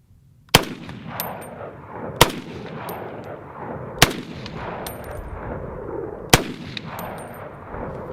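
A French MAS 49/56 battle rifle fires four loud, sharp shots outdoors, spaced roughly two seconds apart, each followed by a short ringing echo and faint metallic clinks.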